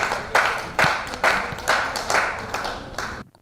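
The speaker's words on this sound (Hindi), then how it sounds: "आप ताली बजा सकते हो" Audience clapping at an outdoor park debate, several distinct bursts of applause swelling and fading in quick succession, fairly close and loud, with no talk.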